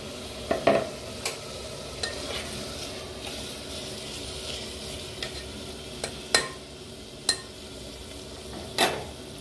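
Mutton curry sizzling in a pressure cooker as a little water is added, with a steady frying hiss, occasional stirring scrapes and a few sharp clinks of utensil against pot, close and moderately loud.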